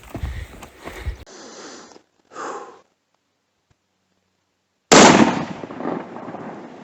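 A rifle gunshot rings out on a spring bear hunt in Idaho: one sharp, loud, close blast with a rumbling tail, following quieter rustling and handling noise.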